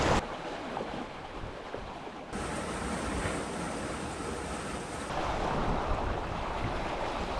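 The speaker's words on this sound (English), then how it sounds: "The wind fills our sails, no engine, just the sound of the ocean" Ocean waves wash steadily around a sailboat underway with no engine, a continuous broad rush of surf and water mixed with wind, without any talking.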